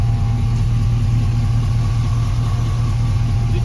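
A 1991 Toyota Land Cruiser HZJ75 with a 6.0 LS engine idles through 2.5-inch straight pipes and a 3-inch stainless Magnaflow muffler, a close, loud, steady low rumble with no other sounds.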